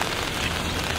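Steady rain falls across Boston Common in a continuous even hiss of drops, with no voices over it.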